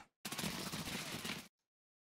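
Gunfire from a firefight in Escape from Tarkov, a dense rattling burst of shots lasting just over a second, fairly close and loud, then cut off into silence.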